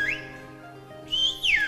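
A person whistles in a whistled language, sending messages through sharp rising and falling whistle tones: a quick upward sweep, a sustained steady pitch, then a louder arching phrase. The whistling is clear and close, with no speech.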